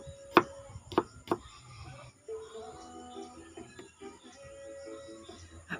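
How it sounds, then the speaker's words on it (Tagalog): Garlic being chopped with a knife on a board for a Filipino chicken tinola: three sharp, close chops at the start, then softer scraping and handling sounds. "Kagayatin na lang po natin."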